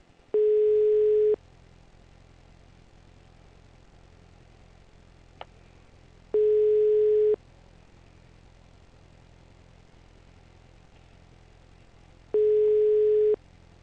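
Telephone ringback tone on an unanswered call: three identical steady beeps, each about a second long, spaced roughly five seconds apart over a faint quiet line with no voice picking up.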